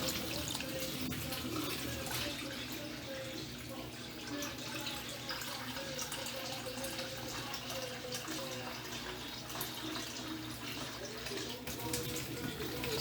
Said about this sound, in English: Now, that's 3 cups of water I just add there.